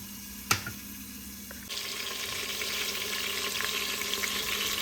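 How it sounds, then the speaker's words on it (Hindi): Onions, tomatoes and garlic frying in a pan over low heat, a soft steady sizzle that swells slightly partway through after a sharp clink, with no voices. "हम इसको भूनते रहेंगे अभी"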